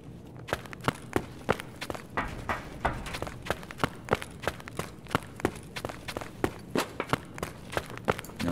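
Footsteps in the Escape from Tarkov video game climb a stairwell toward the listener. The rapid, even thuds grow steady over several seconds against a low ambient hum.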